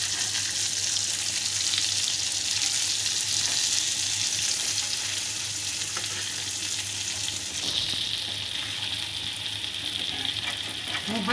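Mackerel (bangda) fish frying in a pan for a Maharashtrian rava fish fry, giving a steady, close hiss and crackle of hot oil that runs unbroken throughout, with occasional faint scrapes.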